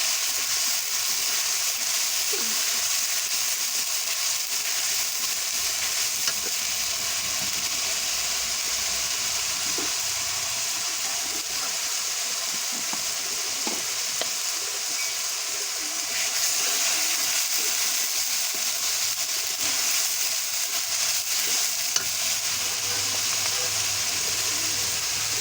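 Ground spice paste frying in a pan, a steady bright sizzle and hiss that runs unbroken throughout, with faint scattered pops and a slight rise in intensity later on.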